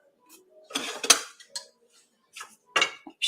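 A fork scraping and clinking against a pan while stirring shiitakes and shrimp in olive oil, a few sharp metallic taps and scrapes in short bursts with quiet gaps between.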